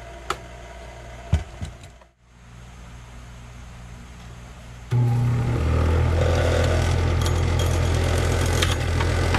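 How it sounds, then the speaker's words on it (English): Bench grinder running steadily, grinding rust off lawn tractor brake pistons: a sudden loud motor whine with a continuous rough abrasive buzz starts midway and holds to the end, after a quieter stretch of faint clicks and handling noises. "So I'm gonna put this on a grinder and grind it clean."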